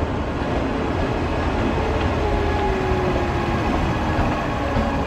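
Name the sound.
Amritsar Mail train entering Pandit Deen Dayal Upadhyay station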